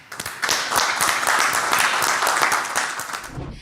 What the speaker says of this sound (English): With a round of applause, let's welcome up founder number 1.